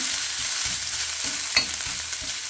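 Garlic and bean sprouts sautéing in a pan, a steady bright sizzle with periodic scraping stirs and a couple of sharp clinks of the utensil, close and continuous with no talk.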